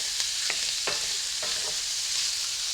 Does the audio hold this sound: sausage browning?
yes